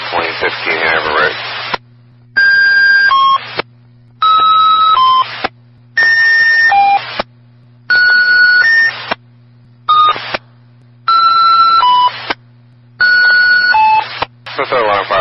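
Fire dispatch alert tones over a Baltimore County fire radio channel, a rapid series of loud, regularly spaced electronic beeps in short bursts separated by gaps, following a brief burst of radio static and voice at the start.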